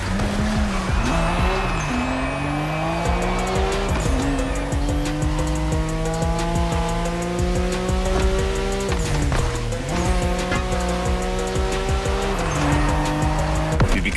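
Nissan Skyline race cars roar through a race in the video game The Crew: Motorfest, engines screaming up through the gears with repeated shifts, tires squealing, loud and continuous with no voices.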